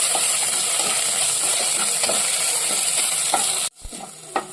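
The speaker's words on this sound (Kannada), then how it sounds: "2 tea spoon ginger garlic paste ಹಾಕ್ಕೊಳ್ಳುವ. ಇದು ಹಸಿ ವಾಸನೆ ಹೋಗೋವರೆಗೂ ಚೆನ್ನಾಗಿ ಫ್ರೈ ಮಾಡ್ಕೊಳ್ಳಿ." Ginger garlic paste fries in a hot pan for an egg gravy, a steady loud sizzle and hiss with faint stirring scrapes, cutting off abruptly near the end to quieter scattered clinks.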